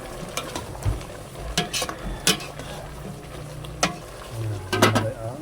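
Vegetables, including sponge gourd and sweet potato leaves, are stir-fried in a pan with sharp clanks of a utensil scraping and tapping against the metal over a soft sizzle, irregular and close.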